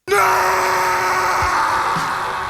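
A man lets out a long, loud, sustained scream, strained and piercing, held for a couple of seconds with no other sound.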